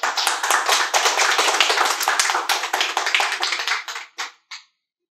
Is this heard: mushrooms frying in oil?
no